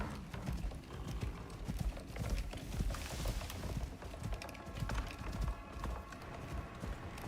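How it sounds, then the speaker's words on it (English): Quick rhythmic clip-clop of a horse's hooves at a fast gait in the survival game Icarus, mixed with rustling and mechanical clatter, fairly faint and with no talking. "I also heard a horse."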